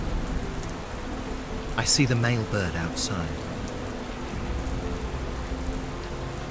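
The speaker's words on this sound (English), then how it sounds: "It's still raining." Steady rain falls in the Ghats, a dense even hiss of drops on surfaces throughout, while a person speaks briefly over it.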